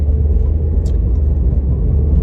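Steady low rumble and road drone from inside a car on the way to a nail shop, continuous and fairly loud with no talking.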